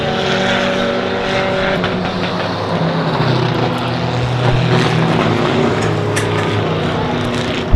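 Stock cars race at Honor Speedway, a loud, continuous roar of several engines droning and shifting pitch as they circle the track.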